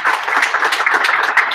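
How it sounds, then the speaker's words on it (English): A warm burst of clapping from a conference audience at a developer talk, close and loud, with quick rapid claps running throughout the brief moment. "Let's give him a warm round of applause."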